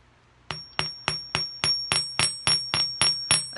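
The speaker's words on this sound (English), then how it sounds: "So now I'm going to kind of hammer around this side here." Steady metal hammer blows shaping a sterling silver heart, about a dozen sharp ringing strikes at an even quick rhythm, close and clear with no talking.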